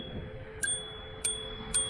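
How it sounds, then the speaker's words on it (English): The bell on a Xiaomi Pro 2 electric scooter dings three times at an even pace, each a short, thin, high ping without much ring. A steady electronic whine runs underneath. "It sounds like you're just hitting like a metal pipe."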